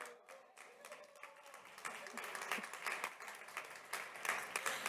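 A conference audience at a health congress claps for a speaker introduced by name, the applause starting sparse and swelling into steady, fairly faint clapping from a crowd.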